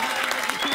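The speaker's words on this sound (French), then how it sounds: "on peut l'applaudir s'il vous plaît" Studio audience clapping for a guest named Kader Diaby on a TV show, a short, dense burst of applause with a voice faintly mixed in.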